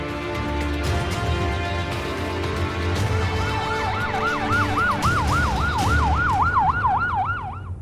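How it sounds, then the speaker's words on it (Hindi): An ambulance siren wails in a rapid rising-and-falling yelp over steady road rumble, growing louder toward the end as it nears. "गौतम ने हड़बड़ी में फोन करके एम्बुलेंस को बुला लिया था"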